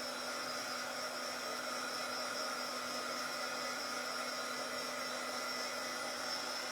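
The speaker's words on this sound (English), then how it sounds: "This is an embossing gun, so it gets really hot." An embossing heat gun blows hot air in a steady, even whoosh with a faint motor hum, continuous and unbroken from start to finish at moderate level.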